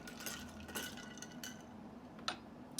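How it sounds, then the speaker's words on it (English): A spoon stirs a port cocktail in a glass, giving a few soft, scattered clinks against a quiet background, with a sharper tap near the end. "And then give it a little stir."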